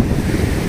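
Sea waves wash onto the shore at Velankanni beach, a steady broadband surf rumble mixed with wind buffeting the microphone, close and continuous with no voices.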